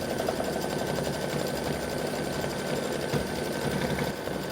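Embroidery machine stitching a decorative fill on an appliqué pumpkin, a continuous fast rhythmic hum and chatter, close and steady throughout with no voices.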